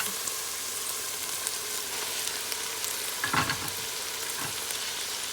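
Celery leaves being mixed into a lamb stew pot over a steady, moderate sizzle, with a couple of brief spoon stirs and scrapes, no voices.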